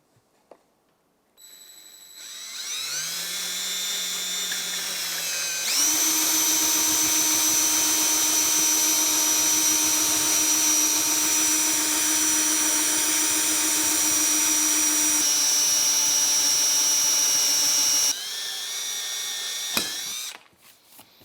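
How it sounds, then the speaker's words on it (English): A power drill with a 1-inch hole saw whines up and runs steadily at high speed, its loud grinding drone cutting through plastic before slowing and stopping. "we're going to drill out the holes on the backside on the plastic using a 1-inch hole saw."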